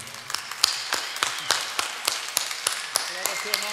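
A church congregation claps during a worship service, sharp claps landing in a fairly steady rhythm over a low murmur of voices.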